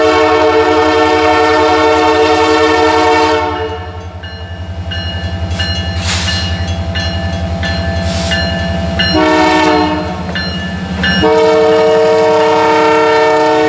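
A CPKC K66 freight train of nearly 20 cars passes Baxter Road on snowy Illinois Railway track, very loud and close, its multi-tone horn blaring in long blasts over the rumble and clatter of wagons.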